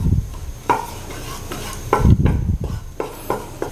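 Garlic is stirred in a pan over a small flame while preparing carp fishing bait, with a spoon scraping and knocking against the pan in repeated strokes and a faint sizzle underneath.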